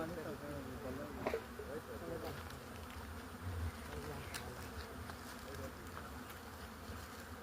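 Honey bees fly and buzz in a steady, dense drone that runs throughout, close and continuous, with faint voices in the background.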